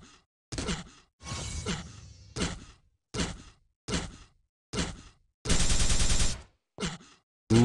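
Grenade explosions in Quake III DeFRaG, the movement-trick mod, go off as a series of separate sharp bursts at an uneven rhythm, loud and close, with silence between them and no talking.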